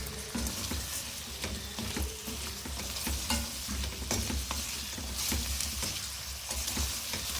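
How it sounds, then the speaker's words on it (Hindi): Potatoes and onions fry with salt and turmeric in a pan, giving a soft, continuous sizzle broken by repeated stirring scrapes and clinks. "हल्दी और नमक डालने के बाद 2 मिनट मैंने इसको फिर से फ्राई कर लिया है।"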